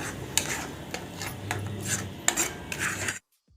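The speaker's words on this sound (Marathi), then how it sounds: "आपल्याला हे अगदी परतून घ्यायचं आहे" A spoon scrapes and stirs thick mango puran batter in a kadai, giving repeated close metallic scraping strokes at an uneven rhythm that end abruptly in silence.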